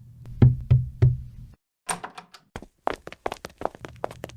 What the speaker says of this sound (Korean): 밖에서 문 두드리는 소리가 들리더니